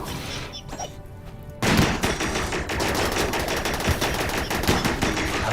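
Gunfire at a Scorcher in the video game RimWorld: a few sparse clicks, then a sudden loud burst of rapid shots that runs on as dense, crackling automatic fire to the end, with no voices.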